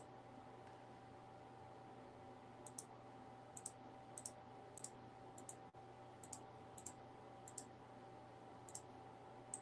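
Faint, sparse key clicks from an on-screen keyboard tap out irregularly over a steady low hum and hiss, about a dozen light ticks spread across the stretch with no talking.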